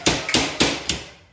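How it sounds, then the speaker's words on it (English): Four sharp hammer blows on steel boltless shelving during assembly, evenly spaced and loud, each ringing briefly before the next, with no talking. "now it's just a matter of hammering it. So essentially just taking the hammer."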